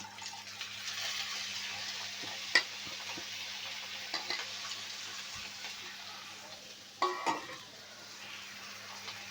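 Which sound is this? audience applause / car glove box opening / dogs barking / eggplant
eggplant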